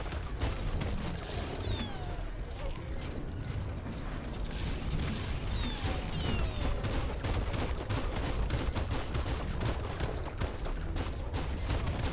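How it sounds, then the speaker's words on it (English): Rapid gunfire and mechanical clatter from a fight in the video game Biomutant, dense repeated shots over a busy, loud game soundscape with no talking. "Just keep shooting."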